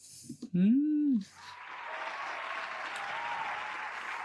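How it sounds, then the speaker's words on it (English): Podcast audience applause for the K-Swiss shoe brand after its athlete signing, a steady wash of clapping rising after a brief spoken moment and continuing moderately loud to the end. "Round of applause for K-Swiss, please."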